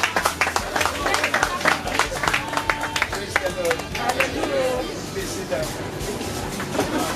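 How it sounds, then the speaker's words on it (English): A standing audience at a church youth gathering in New York claps in loud, irregular bursts, with cheering voices and lively crowd chatter mixed in. "With a standing applause."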